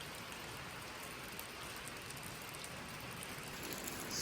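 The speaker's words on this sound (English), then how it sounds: "It's raining." Steady rain hisses evenly throughout, a dense wash of falling drops with no voices.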